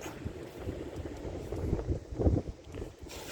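Steady outdoor wind buffeting the microphone, a low rumbling gust that swells midway, with faint background noise and no talking.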